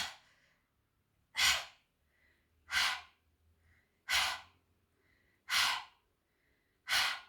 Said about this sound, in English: Exhale, squeeze the pelvic floor.